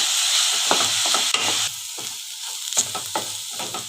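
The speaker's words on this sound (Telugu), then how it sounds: "ఉల్లిపాయలు బాగా వేగాయి." Onions frying in oil in a pan for an egg garlic-chili dish, a close, steady sizzle broken by a few sharp stirring clatters.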